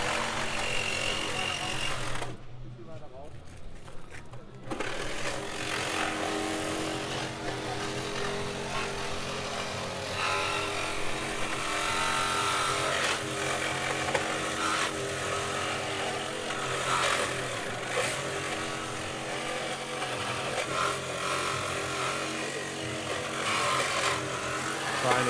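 A reciprocating saw cutting through a car's B pillar during a vehicle rescue: a loud, continuous buzzing rasp of the blade, briefly interrupted, then steady, with crowd and commentary voices under it.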